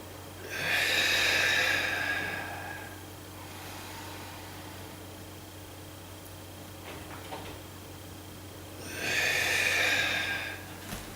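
Two strong nasal inhalations during a home kung fu exercise, the first lasting about two seconds near the start and the second near the end, each a loud rushing breath with a low steady hum between them.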